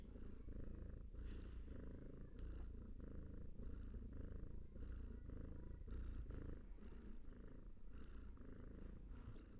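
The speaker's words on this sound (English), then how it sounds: "I also have a sound effect on that has the cat purring." A cat purring, soft and close, in a steady rhythm of repeated rumbling breaths roughly every second, heard alone at low volume.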